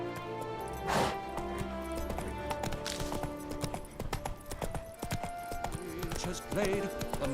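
Rhythmic hoof clip-clops of a horse in Witcher 3, steady and fairly close, mixed with music and game sounds throughout.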